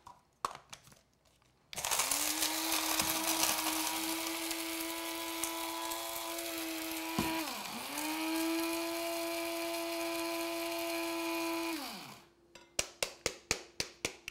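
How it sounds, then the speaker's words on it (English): An electric spice mill grinds a batch of whole spices for tandoori chicken, a steady loud whirring motor hum running for about ten seconds that dips briefly midway, with rattling taps before and after. "the next step is to portion by portion to grind them in our spice mill"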